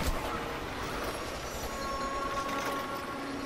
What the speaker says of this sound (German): Oh nein, der Zug!